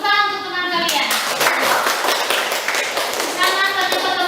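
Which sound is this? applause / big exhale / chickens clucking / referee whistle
applause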